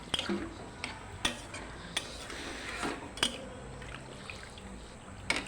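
A cooking pot in a home kitchen gets its lid set on, with scattered metallic clinks and clanks of lid and utensils, then a faint splash of water being added; the knocks are moderately close over a quiet background.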